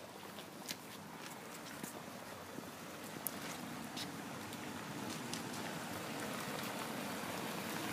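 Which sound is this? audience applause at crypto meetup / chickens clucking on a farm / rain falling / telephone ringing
rain falling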